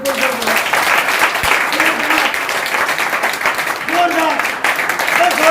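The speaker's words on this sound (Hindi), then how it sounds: "तेरे लिए ताली हो जाए" Steady, dense applause fills a training meeting hall throughout, loud and sustained, with a voice calling out over the crowd.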